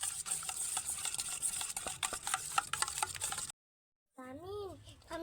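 Milk being stirred in an oversized pot while making sweet yogurt, giving a steady scraping, swishing rhythm up close that stops abruptly, followed by a brief tonal sound.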